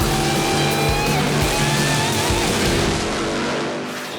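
A loud American car engine roars steadily at high revs at a drag strip in Las Vegas, harmonics sliding in pitch, then eases off slightly toward the end; no voices.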